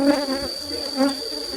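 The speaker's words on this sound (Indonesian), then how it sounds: "memang lebah banyak sekali yang berterbangan di atas" Steady honeybee buzzing hums throughout near flowering albasia trees, with wavering tones swelling twice as if bees pass close, then drift off.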